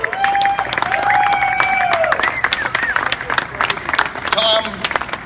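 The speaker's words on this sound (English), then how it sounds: "let's give Councilman Al Taubenberger a big round of applause" A crowd at a Disability Pride Parade event applauds a city councilman, with steady clapping, cheering and whistles that rise at the start and thin slightly toward the end, with voices mixed in.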